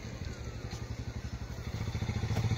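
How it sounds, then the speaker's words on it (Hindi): A motorcycle approaches on a mountain road near the Tungnath forest, its engine giving a steady pulsing thump that grows louder and closer across the clip, with no talk. "लेकिन एक बाइक आ रही है"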